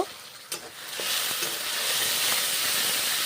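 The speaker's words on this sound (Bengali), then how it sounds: "কষে নিচ্ছি রসুন পোস্ত মশলা" A garlic, green chili and poppy seed paste fries with onions in a pan for an egg curry, making a loud continuous hiss and sizzle that builds after a couple of quick stirring knocks, close up with no talking.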